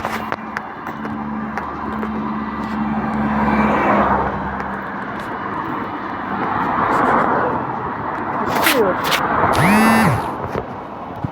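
Cars passing on a city street, several swelling and fading whooshes of traffic heard at moderate distance, with a voice briefly speaking in between and short sharp noises near the end.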